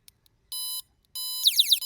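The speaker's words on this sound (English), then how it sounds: "So it beeps when you change the setting." A solar-powered ultrasonic animal repeller gives two steady electronic beeps as its setting is switched, the second followed by a quick run of rising chirps, loud and close with silence between.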